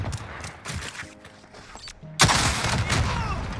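Pistol shots in Call of Duty Modern Warfare: a few scattered shots, then a loud sustained burst of gunfire and explosions that fills the second half, with little speech.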